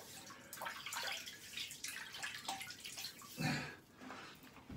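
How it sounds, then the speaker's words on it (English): Water splashes and drips as a face is wetted at a basin before shaving, close and irregular with wet slaps and trickles, no talking. "I'm just going to wet my face."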